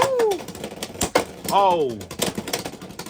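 Beyblade spinning tops Hellsscythe and Dranzer S clatter and scrape against each other in a battle, with sharp rattling hits beneath lively shouting and cheering.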